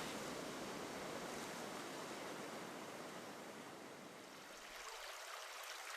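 Surf washes continuously onto the open sandy shore at Praia do Cassino in Brazil, a broad steady roar of breaking waves with no voices, easing slightly toward the end.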